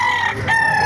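A rooster crowing at the Baliuag chicken market in Bulacan, one loud, close, drawn-out call with a brief break, set against a busy background.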